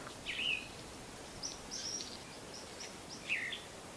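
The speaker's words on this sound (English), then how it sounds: "I'm sure there's birds singing here." Faint birds sing in warbler habitat, a few short, high chirps and trills scattered over quiet background hiss, distant and sparse.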